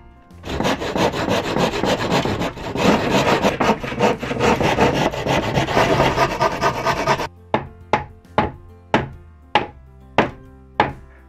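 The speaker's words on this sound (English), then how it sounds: "cut a centimetre or two off this board" A hand saw cuts through a wooden loft board with fast, continuous rasping strokes, then slows to about seven separate, evenly spaced strokes as the cut finishes. The sawing is close and loud.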